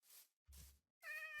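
A cat in a video game gives a few short, faint calls, ending in a clear, tonal meow.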